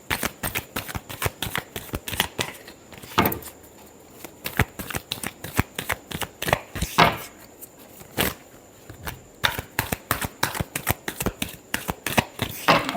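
Tarot cards are shuffled by hand close up, giving a fast, continuous run of crisp flicks and riffles with short pauses.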